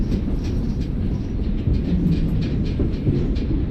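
A heavy tanker goods freight train rolls past in Train Simulator, a dense steady rumble of wagons with faint clickety-clack, continuous and fairly loud throughout.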